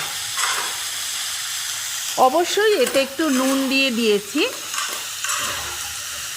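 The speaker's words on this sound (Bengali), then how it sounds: "একসাথেই ভাজা ভাজা করতে বসিয়ে দিলাম" Sago and cauliflower fry together in a pan with a steady sizzle, while someone talks over it for most of the clip.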